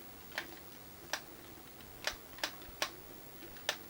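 Sharp clicks from the top button of an SVI Atari 2600 joystick during Space Invaders play, six quick crisp presses at uneven intervals, close and fairly quiet against a faint room background.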